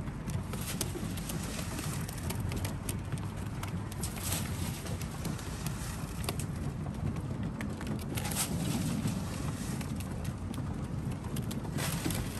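Racing pigeons coo in a loft while the young birds feed, a steady low murmur of cooing beneath constant fluttering and shuffling, dense and continuous throughout.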